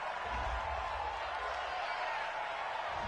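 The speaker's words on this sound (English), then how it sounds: "This home crowd, they're happy with that call." Home crowd in the video game Madden cheering a penalty call during a Raiders vs Bengals football game: a steady, dense wash of distant stadium crowd noise with a low rumble, continuous and even.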